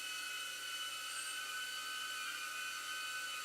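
A drone coming in for an automatic landing hovers nearby with a steady, high-pitched whine and buzz of its propellers, continuous and fairly loud throughout.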